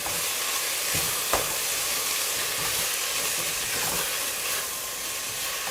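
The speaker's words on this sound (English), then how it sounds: "pick up my favorite spurtle, give that a stir" Cabbage soup with onion in the pot, stirred with a spurtle, gives a continuous bubbling hiss broken by a few brief scrapes and knocks from the stick, with no voices.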